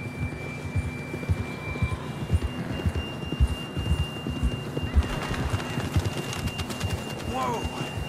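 Horse hooves pound in a steady galloping rhythm while riding in Red Dead Redemption 2 in the snowy Grizzly Mountains, continuous and close, with a voice speaking over them and a faint tone lingering in the background.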